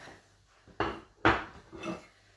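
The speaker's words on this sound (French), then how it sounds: "je vais retirer ma casserole qui me gêne" A saucepan being lifted and set aside from the stove while cooking whiting brandade, three short metallic clunks and scrapes in quick succession, fairly faint, in a quiet kitchen.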